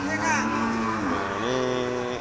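A Limousin cow lows nearby at a cattle sale, two drawn-out moos one after the other, loud over faint background noise.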